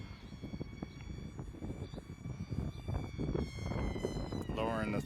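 Cheap RC model airplane flying a few hundred feet up, its small engine a thin steady whine in the distance, under close wind noise and bumps from handling, with a voice talking over it.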